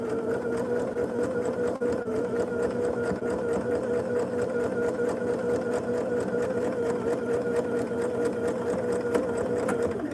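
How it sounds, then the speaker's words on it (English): A sewing machine stitches a quilt seam up close, its rapid even mechanical chatter running steadily without a break. "I stitch up as close to that pin as I can to make sure my point"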